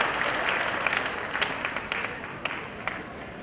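Audience applause for students at a school annual function, a dense, steady wash of many hands clapping, with sharper individual claps standing out, continuing without pause.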